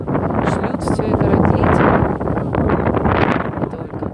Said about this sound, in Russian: Ветер очень сильный, я лучше поснимаю, болтать не буду.